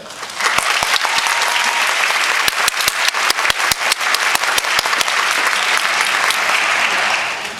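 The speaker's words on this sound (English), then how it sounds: "can we have another round of applause for Beach?" A large crowd applauds steadily at a university pharmacy school graduation ceremony, dense clapping with a few sharper individual claps standing out, sustained for several seconds before tapering slightly at the end.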